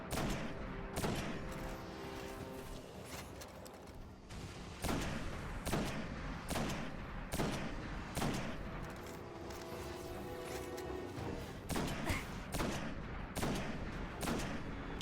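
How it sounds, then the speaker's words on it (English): Sniper rifle fire in the video game Destiny, heard as repeated sharp, loud shots with booming tails amid dense, continuous gunfire and explosions from a firefight, with no voices. "Rip that sniper shot"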